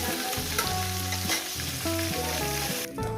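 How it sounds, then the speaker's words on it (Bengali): Rohu fish heads fry in hot oil, a steady close sizzle running throughout, with harmonic tones and a brief clatter near the start, and no talking. "বাদ বাকি মাছের মাথাগুলো আমি ভেজে দেবো"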